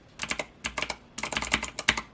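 Keys on a Razer BlackWidow V3 Pro wireless mechanical gaming keyboard, built of magnesium and plastic, clatter in quick bursts of crisp clicks close up, with short pauses between flurries and no talking.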